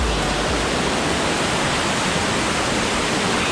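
Loud waterfall roaring close by, a constant, dense broadband rush of falling water that fills the whole moment with no pauses or voices.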